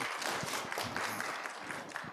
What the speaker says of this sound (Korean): 박수를 크게 치시는 거 보니까